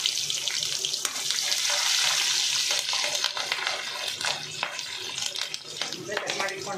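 Green chillies frying in a pan with urad dal: a steady sizzling hiss with faint stirring clinks, close and moderately quiet.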